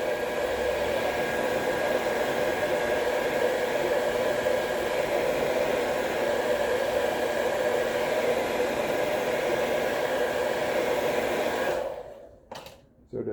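A hair dryer blows steady heat onto a Suzuki Swift ZC33S badge emblem to soften its glue, a constant close whooshing roar for about twelve seconds before cutting off abruptly.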